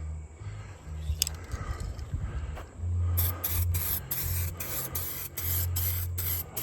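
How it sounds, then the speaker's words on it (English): Clear coat sprays onto a Victory Vegas FXRT motorcycle fairing in repeated close, hissing bursts, each pass a steady rush of aerosol with short gaps between strokes. "I'm gonna start hosing them down with some clear and pray and hope for the best."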